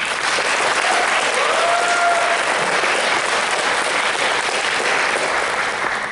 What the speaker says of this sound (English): nice round of applause for Kelly Jensen